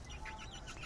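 Chickens clucking outdoors on a street, a steady mix of soft clucks and calls from several birds over a continuous low background rumble.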